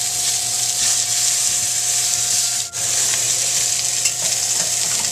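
Food just flipped in a pan fries with a loud, even, hissing sizzle that runs almost unbroken, with one brief dip midway.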